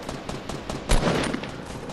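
Rapid automatic gunfire from the video game Fortnite, a dense burst of shots peaking near the middle and continuing at close range without talk.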